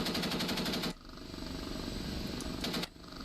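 An OH-58D Kiowa Warrior helicopter's gun fires in DCS, two sharp bursts of rapid, rattling gunfire, a longer one at the start and a short one near the end, over a steady rotor and engine hum.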